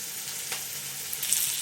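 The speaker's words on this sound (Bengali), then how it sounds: "প্রথমে আমি চিংড়ি মাছ নুন হলুদ মাখিয়ে ভাজতে শুরু করে দিয়েছি" Prawns coated in salt and turmeric frying in hot oil, a dense bright sizzle that holds steady and close, swelling slightly toward the end.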